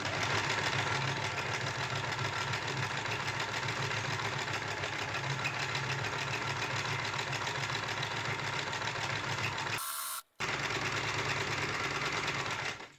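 A home sewing machine runs steadily while stitching thick cord rope for a bow, a continuous close mechanical whir that cuts out briefly near the end, then resumes.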